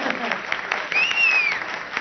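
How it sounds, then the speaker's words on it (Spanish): Party guests applaud at a celebration, a moderate patter of clapping with a whistle-like tone gliding through the middle and voices mixed underneath. "Un aplauso, mi cuñi."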